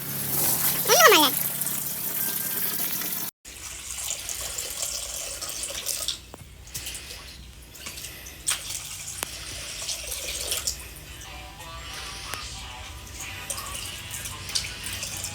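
Tap water runs steadily into a basin during a child's bath on a hot day, a continuous splashing stream with occasional drips, close by, while someone talks over it.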